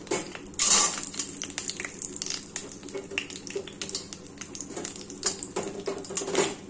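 Grated coconut frying in a pan during preparation of a Telugu-style okra fry with green chillies, giving a crackly sizzle with scattered sharp clatters and stirring scrapes, fairly close and steady throughout.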